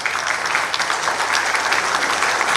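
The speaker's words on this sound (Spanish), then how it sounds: "Aplausos, por favor." An audience at a forum on seismic risk in buildings applauds, producing dense, steady clapping that is fairly loud and continuous for a couple of seconds with no voices over it.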